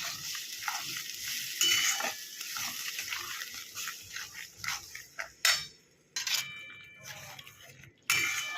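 Spice masala for an egg masala curry frying and being stirred in a pan, a soft sizzle with irregular scraping strokes and a few sharp metallic clinks, close and moderately quiet.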